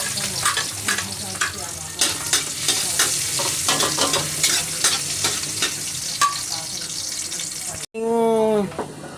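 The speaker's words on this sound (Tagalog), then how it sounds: "Kaya po natin ng ating mantika. Tayo po magigisa na. Ayan. Ilagay na po natin ating luya." Ginger pieces sauté in hot cooking oil for chicken-liver bopis, a steady close sizzle with stirring clatter throughout, cut off near the end by a brief burst of a different sound.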